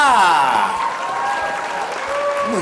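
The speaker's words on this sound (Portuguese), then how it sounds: "Palmas para o Tatá!" Clapping for Tatá in a bilingual children's animal-sounds lesson, a short burst of applause mixed with bright, cheerful sliding tones and a voice, loud and close, lasting about three seconds.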